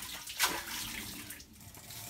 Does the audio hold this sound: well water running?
yes